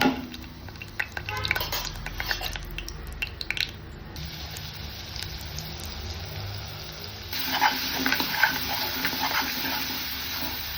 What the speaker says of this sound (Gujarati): જીરું તતડે એટલે હિંગ નાખીને આદુ મરચાં